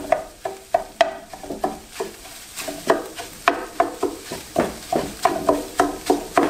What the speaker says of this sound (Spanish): voy a agregar el huevo al sartén más grande.